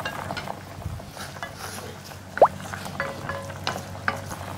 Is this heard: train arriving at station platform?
no